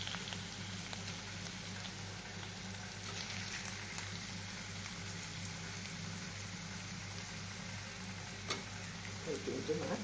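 Salted hilsa fish pieces fry in a hot pan, a continuous crackling sizzle at moderate level with faint background voice and a few sharper pops toward the end.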